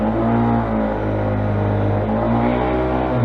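A learner motorcycle's engine hums steady and loud, close up, as the bike makes a slow U-turn on wet gravel along a logging trail; the low rumble holds evenly with slight pitch shifts and no talk.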